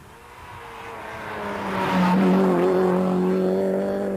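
A rally car on a stage in Millstreet, passing alone, its engine note building from a distant approach to a loud, close pass and then holding a steady high revving drone with some tyre noise.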